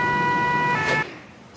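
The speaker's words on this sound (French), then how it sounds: "Et à ma droite, la sirène des pompiers." Fire engine siren from a video game holds a steady multi-tone wail, loud and close, then cuts off abruptly about two-thirds through, leaving a fading tail.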